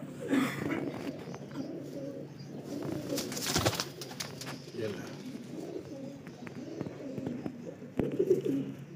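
Low, throaty pigeon coos repeat throughout, with a brief rustle or flutter partway through and a louder burst of cooing near the end.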